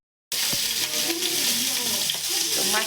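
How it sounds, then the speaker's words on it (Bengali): Fish frying in hot oil in a home kitchen pan, a steady loud sizzle starting abruptly and holding for a few seconds, with a few faint clinks and soft voice-like tones beneath. "এক সাইড যেহেতু ভাজা হয়ে গেছে, আর এক সাইডও যদি সুন্দরভাবে ভাজা হয় সেদিকে খেয়াল রাখতে হবে"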